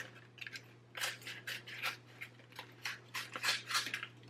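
Paper transfer tape for a Cricut craft project is cut down to size with scissors, producing a series of crisp, close snipping and rustling strokes in an uneven rhythm over a steady low hum, with no talking.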